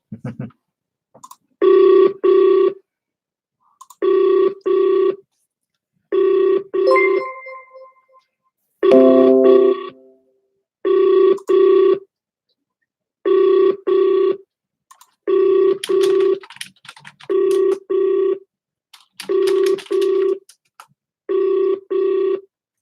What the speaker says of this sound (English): So let's try to give him a call.